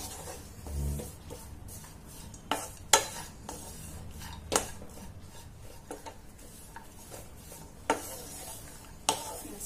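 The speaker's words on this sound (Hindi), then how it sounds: "इसे अच्छी तरीके से हम मिक्स करते जाएंगे" Date and dry fruit laddoo mixture stirred in a pan, with continuous close scraping and rubbing and occasional sharp clinks of the spoon against the metal.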